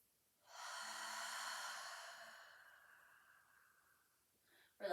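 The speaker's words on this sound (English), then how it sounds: "I'm going to take another inhale" A person takes a deep, slow inhale during lateral breathing in a Pilates reformer routine, a single long airy breath close by that fades out, with a brief rustle at the end.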